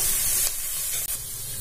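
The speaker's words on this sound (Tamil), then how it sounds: "வெங்காயம் ஆட் பண்ணிட்டு பொரிய விடுங்க." Onions fry in a pan for rava upma, giving a steady, close, loud sizzling hiss with a brief break, with no voices.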